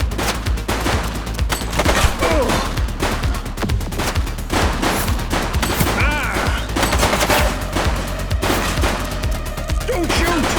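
Sustained loud gunfire in the police game The Precinct during a chase, rapid overlapping shots and automatic bursts firing without pause, with brief shouted voices underneath.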